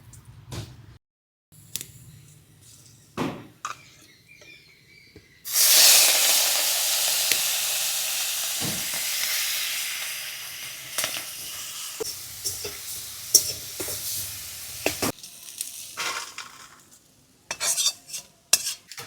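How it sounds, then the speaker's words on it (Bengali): Prawns seasoned with salt and turmeric hit hot mustard oil in a wok with a sudden loud hiss that gradually fades to a softer sizzle, framed by clinks of utensils and scraping before and after. "চিংড়ি মাছটা এবার ভেজে নেব"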